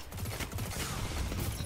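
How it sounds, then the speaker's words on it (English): Rapid pulse rifle bursts crackle in a Destiny 2 Crucible match, close and loud, firing in quick repeated volleys with a steady rhythmic pattern. "my freaking pulse rifle shot is nasty"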